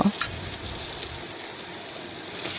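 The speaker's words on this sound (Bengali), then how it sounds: "এই দেখুন আলুটা নাড়াচাড়া করে একটু ভেজে নেব" Potatoes frying in a pan as they are stirred, a continuous close sizzle with soft scraping and a brief clatter at the start, no voices.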